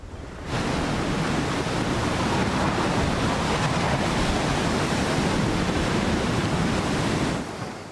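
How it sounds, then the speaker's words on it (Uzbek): Sea surf breaking along a beach shore at a bay, heard as a steady, rushing wash of broadband noise that swells in, holds constant for several seconds, then fades away, with no voices. "Dengizning bu qismidagi to'lqinlar ortda qolgan ko'rfaz to'lqinlari kabi shiddatli emas"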